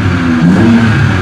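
Car engine with a Windbooster throttle controller set to race mode, revving steadily in a low, sustained drone for a moment, loud and close with no talking.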